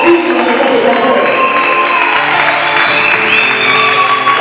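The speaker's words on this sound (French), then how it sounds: "Sous vos acclamations." A crowd applauds and cheers in a dense, steady wash of clapping and raised voices that stays loud and close for the whole stretch.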